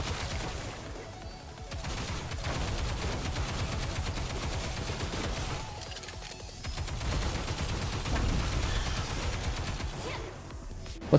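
Rapid automatic gunfire from the shooter game Nikke rattles in dense, sustained bursts with brief lulls between volleys, layered with game effects and explosions throughout.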